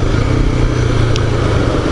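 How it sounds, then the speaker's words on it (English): A sick-sounding motorcycle engine runs steadily at moderate volume, a low rumbling drone with a slightly rough, uneven texture and no talking. "his bike did sound a little bit sick"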